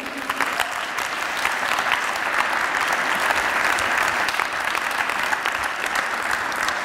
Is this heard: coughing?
no